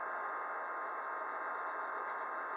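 A pencil shades and rubs across paper, a soft continuous scratchy hiss that stays quiet and steady throughout, with no voices.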